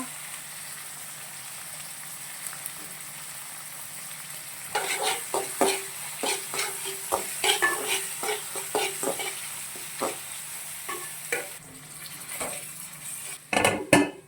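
Rasam ingredients with ginger-garlic paste stirred and fried in a pan, starting as a soft steady sizzle, then a busy run of close spoon scrapes and clinks against the pan over continuous frying hiss.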